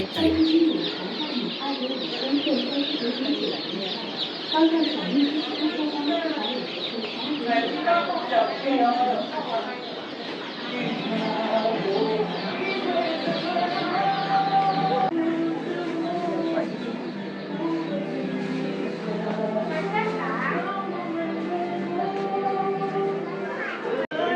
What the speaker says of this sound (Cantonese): 我仲以為邊度有雀仔聲，原來係雞仔